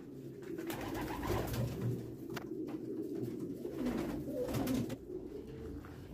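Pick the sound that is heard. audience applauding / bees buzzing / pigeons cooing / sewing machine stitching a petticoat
pigeons cooing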